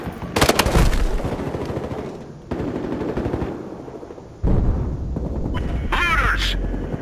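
Rapid automatic gunfire rattles through a bank heist match in the video game Battlefield Hardline, loud and close in dense bursts with short gaps, and a shouting voice cuts in near the end.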